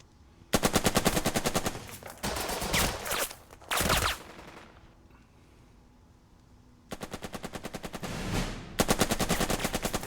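Machine guns lay down suppression fire in the Burden of Command video game, with long rapid bursts of loud close gunfire, a lull of rumbling noise, then fresh sustained bursts.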